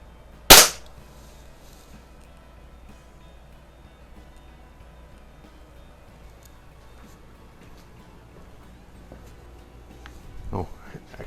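A single sharp, loud crack from a Predom Lucznik spring air pistol firing a pellet at a target, followed by a quiet background and a faint later rustle.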